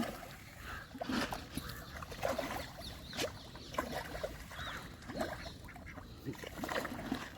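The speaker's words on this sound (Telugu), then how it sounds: "ఇంకో బాతులు కూడా తింటున్నాయి చూడండి మేతని" Ducks eating feed at a fish pond during fish feeding, with soft irregular dabbling, splashing and occasional quacks over a low background of water.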